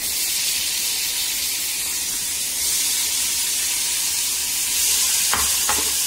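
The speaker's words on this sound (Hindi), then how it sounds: "तो इसमें पनीर को हम फ्राई करेंगे।" Pieces of marinated paneer fry in hot oil with a loud, dense, continuous sizzle, a steady bright hiss that swells slightly, with a couple of short knocks near the end.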